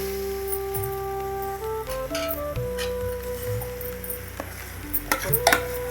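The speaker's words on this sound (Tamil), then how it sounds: "இப்போது வேக வச்ச காயை சேர்க்குறேன் நல்லா பெரட்டி விட்டுக்கணும்" Boiled vegetables stirred into a sambar mixture in a pan, giving a soft sizzle with scraping strokes and a few utensil clinks near the end, heard close, while a steady tonal hum runs underneath.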